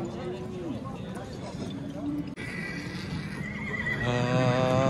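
Horses neigh at a livestock horse market in Nookat, with whinnies rising over a busy crowd of talking people and some hoof clatter, the calls louder toward the end.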